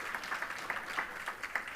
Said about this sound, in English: Let's give a round of applause to those celebrating 25 years of service to KCKCC.